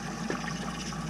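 Water leaks from a copper pipe joint in a close, steady low gush with a faint watery trickle running through it, brief and without any voices.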